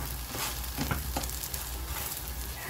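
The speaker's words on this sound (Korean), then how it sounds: "자신있게 프라이팬을 들고 꽉 뒤집어주면 되지" A zucchini and egg pancake sizzles steadily in a frying pan, a soft continuous crackle with a few light clatters of the pan, quiet and close, with no voices.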